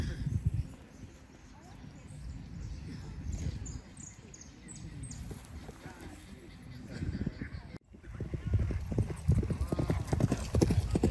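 Horses in a polo match in Buenos Aires clop rhythmically over turf, a steady mid-distance hoofbeat that swells louder near the end, with people talking over it and a brief whinny.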